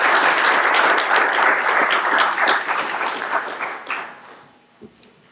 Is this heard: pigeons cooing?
no